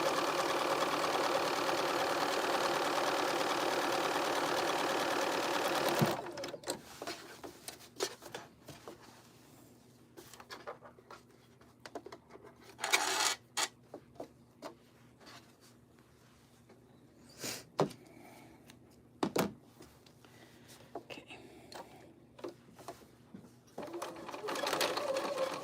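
Sewing machine running on a stitching job, a loud continuous whir for the first few seconds, then silence broken by short stop-start bursts and handling noises.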